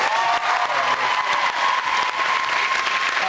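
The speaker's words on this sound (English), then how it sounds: "Round of applause." Studio audience applause fills the room steadily and loudly from start to finish, a dense, continuous clapping with a little crowd noise mixed in.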